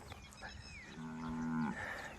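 A herd of about 85 Brahman cattle at a ranch in Chai Badan, Lopburi, with one clear, drawn-out moo standing out against fainter lowing and rustle in the distance.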